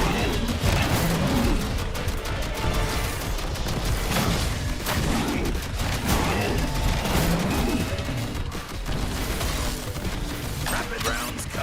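Machine gun rapid fire in a video game, a dense continuous barrage of shots and impacts layered with crashes and mechanical clatter, loud and unbroken throughout.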